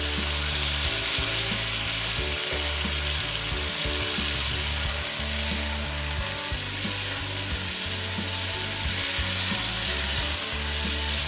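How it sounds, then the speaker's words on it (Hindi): Chicken nihari frying with spices in a pan for a restaurant-style homemade dish, giving a steady, loud sizzle and crackle with scraping, rhythmic stirring throughout, no voices. "मसाले के साथ इसको अच्छे तरीके से फ्राई करेंगे।"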